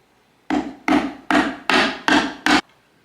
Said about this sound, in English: I'm going to use my hammer